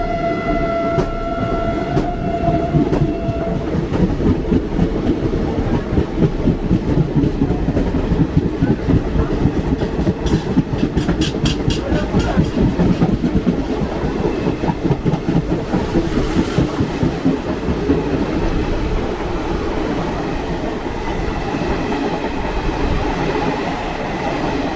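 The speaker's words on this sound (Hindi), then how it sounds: "हरिहर एक्सप्रेस बरौनी से अम्बाला जा रही है।" Harihar Express passenger train running on the rails from Barauni toward Ambala: a loud, continuous rumble with rhythmic clickety-clack of wheels over rail joints and brief metallic squeals, heard close from on board with no talking.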